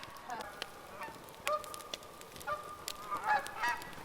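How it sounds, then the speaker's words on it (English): Geese honk repeatedly at a snowy campsite in Oregon, loud and fairly close. The calls come in irregular bursts, sometimes overlapping, over a quiet background. "there are just geese all over the place"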